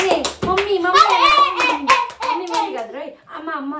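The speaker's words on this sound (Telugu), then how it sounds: "అందరు నాకే కావాలి అని కోరుకోండి ప్లీజ్ ప్లీజ్. అందరూ చప్పట్లు కొట్టండి, నా కోసం చప్పట్లు కొట్టండి." Children clap their hands in scattered, uneven bursts at home while a child chatters loudly and excitedly over the claps.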